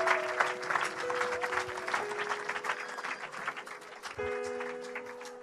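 A church congregation claps steadily and loudly at a service, with a sustained organ or keyboard tone beneath the applause.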